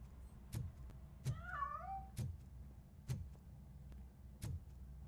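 A cartoonish cat meows once in a rising, wavering cry in the video game RoboCop, set among a few sharp thumps and a low steady hum.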